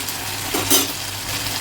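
Fish and brinjal curry with tomato and spices is stirred in a hot pan, a soft sizzle with a brief scrape of the spoon in the middle, close and short.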